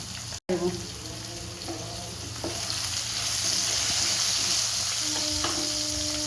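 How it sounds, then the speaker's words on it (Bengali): Potatoes frying in a pan with a little salt, a continuous close sizzle with occasional stirring scrapes building slightly louder as it goes on. "আলুটা একটু লাল লাল করে ভেজে নেব"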